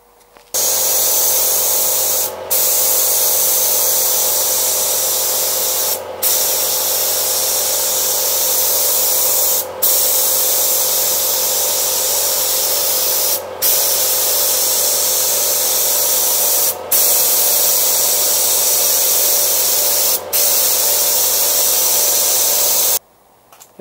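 A spray gun lays epoxy primer onto a sailboat hull, a steady loud hiss running for long passes with brief breaks between strokes.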